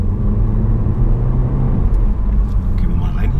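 A VW Taigo R-Line with a 150 PS engine and DSG gearbox is driven sportily, its low engine and road rumble filling the cabin steadily with a voice over it.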